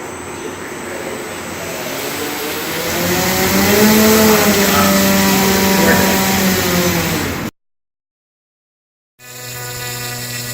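A model airplane motor is throttled up and its buzzing whine climbs in pitch and loudness, holds, then eases back before cutting out abruptly. After a short silence it resumes as a steady drone.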